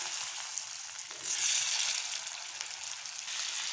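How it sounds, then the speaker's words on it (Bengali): Potatoes fry in oil in a pan while cooking egg biryani, giving a steady close bright sizzle that swells louder for a moment midway, with no voices. "সেম ইয়েতে আমি আলুটাকেও ভেজে নেব।"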